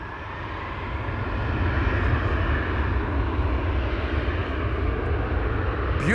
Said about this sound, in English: Here in the foreground, the Red Wine Express, Embraer 175 to Bordeaux.